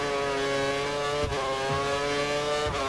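Formula 1 car engine in the F1 2013 racing game at the British Grand Prix, a steady loud high-revving whine with brief gear-shift dips, continuous and close throughout.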